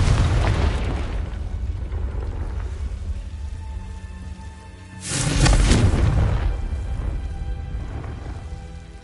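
Confringo spell explosion in Hogwarts Legacy, a sudden loud blast that rises over a steady rain-like rumble partway through and then slowly fades.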